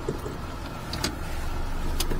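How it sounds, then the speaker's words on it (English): Daihatsu Atrai turbo mini van engine idling roughly, a steady low rumble close by with faint rattles and a brief higher clatter near the middle and end. "It does idle a little rough."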